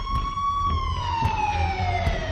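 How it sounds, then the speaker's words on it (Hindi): Police and ambulance sirens wail together outside a house, a steady high tone sliding slowly downward with harmonics above a low rumble of road noise, continuous and fairly close. "हमारे घर के बाहर पुलिस और एम्बुलेंस की सायरन बजने लगे।"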